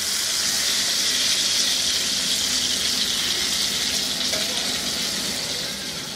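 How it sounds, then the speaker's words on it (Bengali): Eggplant and egg fry in hot oil over high heat, giving a loud, dense, unbroken sizzle close up that fades slightly at the end, with no talking. "আমি হাই হিটে ভাজছিলাম"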